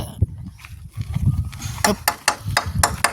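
A nail is hammered by hand during house construction, with several sharp metallic taps spaced irregularly in the second half over a low murmur of background noise.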